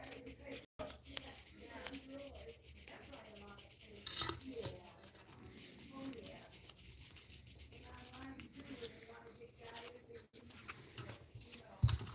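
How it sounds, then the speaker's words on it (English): A wooden musky crankbait fishing lure being sanded by hand: soft, irregular rubbing strokes that are fairly faint and close, running for several seconds, with a low room murmur and a brief thump near the end. "let me get this sanded"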